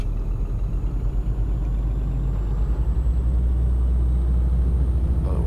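A truck engine labors in low gear on a climb in Euro Truck Simulator 2, a deep, steady rumble that holds loud and unbroken throughout, with no voices over it.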